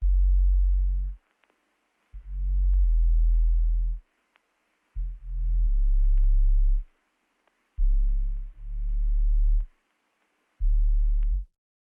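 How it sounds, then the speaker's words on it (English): A simple mono sub bass in FL Studio follows the root notes of a chill lofi chord progression, playing five long, deep sustained notes separated by short gaps, clean and loud with no talking. "we do have a bass, which is this simple mono bass, and all we are doing is following the root notes of the chord progression"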